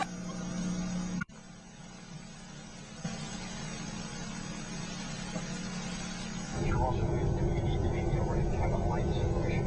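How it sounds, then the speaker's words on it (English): A plane drones in a horror video game, a steady broadband engine rumble that cuts out briefly, returns, then swells louder and fuller toward the end, heard without overlying talk. "That sounds like a plane."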